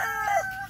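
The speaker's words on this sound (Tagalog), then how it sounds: "Ang dami nyo pati manok, oh." Chickens near a house, a short burst of clucking and crowing up close over a busy background.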